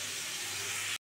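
A fish head fries in a pan for a Bengali pumpkin chachra, giving a loud, steady, unbroken hiss that stops abruptly.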